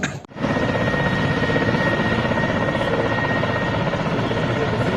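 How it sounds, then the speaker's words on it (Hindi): A helicopter flies overhead in Kashmir. Its loud, steady rotor drone fills the whole stretch after a brief break at the start. "हेलीकॉप्टर जो आए थे"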